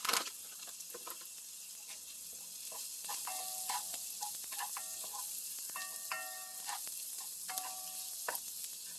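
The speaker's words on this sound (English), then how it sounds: "this little mixture of the onions, celery, and garlic, you just kind of want to start to sweat them" Onions, celery and garlic sweat in a soup pot with a soft, steady sizzle, overlaid by scattered clinks and scraping of a utensil stirring against the pot, close and moderately quiet.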